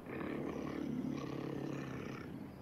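At night on a late elk hunt, a cougar lets out a sustained rasping growl at moderate distance. It swells and fades over a couple of seconds, and a short sharp knock sounds at the very end.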